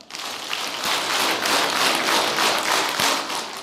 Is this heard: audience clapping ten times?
yes